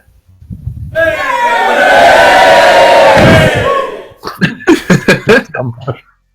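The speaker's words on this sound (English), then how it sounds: "In a room and hears cheering." A crowd cheering sound effect plays during a tabletop game session, a loud roar that swells and holds for about three seconds, then fades as players laugh and talk.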